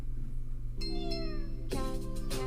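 A cat meows several times at close range, with rising and falling tonal calls over a low steady hum.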